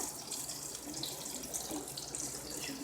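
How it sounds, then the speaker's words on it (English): Tap water runs steadily and fairly close, a continuous splashing hiss as a pot is filled with two cups of water for cooking on a Sterno folding stove. "I'm gonna add the 2 cups of water."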